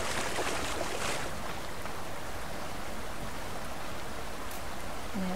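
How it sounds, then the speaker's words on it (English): Waterfalls in the survival video game Subsistence pour out a steady, loud rushing roar that fills the whole stretch evenly, with no talking over it. "I think the sound of the waterfalls is just too much"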